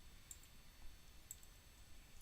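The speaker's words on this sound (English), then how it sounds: "right click, hit delete." Two soft computer mouse clicks spaced about a second apart, faint and alone against quiet room noise, with a louder click at the very end.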